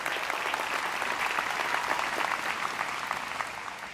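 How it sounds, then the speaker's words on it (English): A crowd at a USC commencement ceremony gives a round of applause, a steady wash of clapping heard at moderate distance that tapers slightly toward the end. "Let's give them a round of applause."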